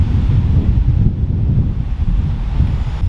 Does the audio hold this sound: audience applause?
no